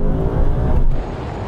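Engines roar loud and close as a Toyota GR Yaris and a Mitsubishi Evo VI drag race side by side, a dense low rumble under hard acceleration that eases slightly near the end.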